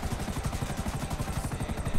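Helicopter in the video game GTA 5, rotor engine chopping in a steady rapid pulse that stays loud and close throughout, with no talk over it.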